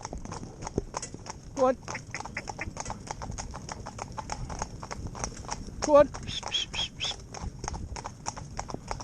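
A pair of Gypsy Cob horses driven in tandem trot on a road, their hooves clip-clopping in a fast steady rhythm up close, while a man calls out to urge them on.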